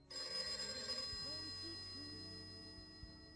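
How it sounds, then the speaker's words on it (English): A telephone ringing in a radio play set in a domestic kitchen, a steady electronic ring under people talking, with a faint radio playing in the background. "There's quite a lot of phone ringing at the top of this."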